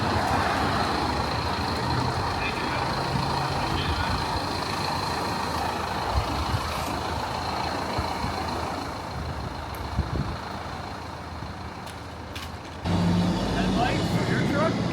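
Old dump truck with a stainless steel dump body, its engine droning steadily while driving slowly, a loud broadband rumble throughout with a brief dip near the end.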